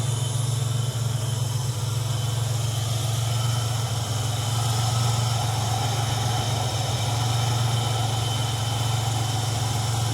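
The 1987 Buick Regal T-Type's V6 turbo engine idles steadily and smoothly, a loud, even low hum that runs unbroken from start to finish with no voices.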